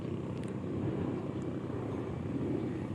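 An airplane taking off produces a steady, continuous engine roar that holds evenly throughout and is heard at a distance with no talking.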